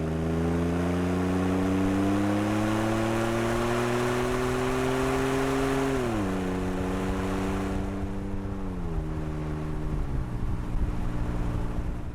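Ford F150 2.7L EcoBoost pickup with a Magnaflow cat-back exhaust, a steady droning engine note that rises gradually then steps down in pitch twice as it shifts, continuous and fairly close with no talking.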